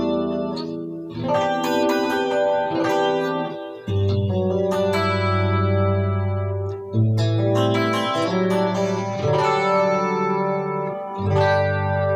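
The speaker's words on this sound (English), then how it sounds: "Foot switch B are, yeah, with chorus and my distortion." An electric guitar through chorus and distortion pedals plays chords and riffs alone, loud and swirling with shimmering chorus and gritty distortion, with sustained notes and a short pause.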